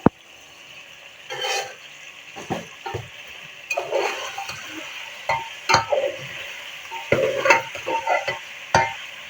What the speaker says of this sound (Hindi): साथ साथ गोश्त की बुनाई होती जाएगी।